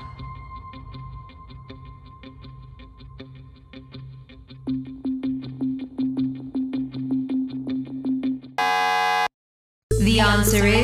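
A ticking countdown clock beats steadily, growing louder, then a harsh game show buzzer blares once, followed by a short burst of music.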